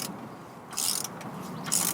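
Ratchet wrench undoing engine mount bolts on a Land Rover Freelander: short bursts of rapid mechanical clicking, close and moderately loud, separated by brief pauses, with no talk.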